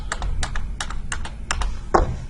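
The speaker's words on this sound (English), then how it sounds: "Then hit Enter 5 to 6 times." A computer keyboard is tapped in quick succession while a document is formatted in Microsoft Word: about ten light, evenly spaced keystrokes, close by, ending with one heavier press.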